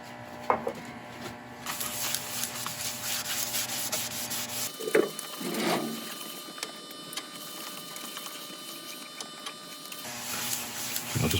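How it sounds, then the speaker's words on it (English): Wax being buffed into a turned segmented wooden bowl spinning on a lathe: a steady broadband rubbing hiss over a low motor hum, with brief louder scuffs along the way. "I'll just buff this in."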